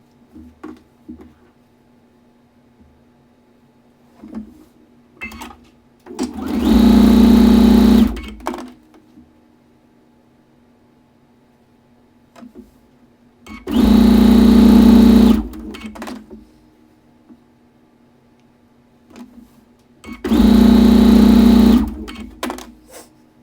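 A sewing machine stitches small log cabin quilt pieces in three loud, steady whirring runs of about two seconds each, separated by quiet pauses with faint handling clicks.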